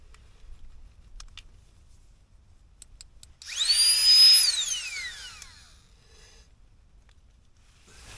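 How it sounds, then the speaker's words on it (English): A small Flextail electric pump whines for about two seconds as it inflates a Thermarest Neo X sleeping mat at a wild camp, its high motor pitch rising then falling away, alone against quiet surroundings. "Yep, I use that to blow up my Thermarest Neo X mat up."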